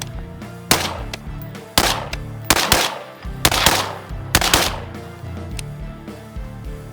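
Suppressed rifle gunshots through a Surefire RC3 four-prong suppressor on an 11.5-inch barrel, about seven sharp reports, some in quick doubles, spaced across several seconds, close and loud with short echoing tails.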